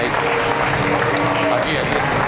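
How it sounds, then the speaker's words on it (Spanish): Audience applause at the Gastromia Victoria 2018 gastronomy award ceremony in Marbella: a dense, steady wash of clapping from a crowd that fills the whole stretch, with voices talking over it. "un aplauso a Rafael, por favor"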